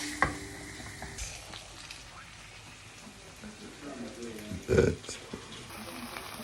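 A pan of pasta being stirred in a home kitchen late at night, a steady low sizzle with scattered utensil scrapes and one louder clatter near the end, under quiet background.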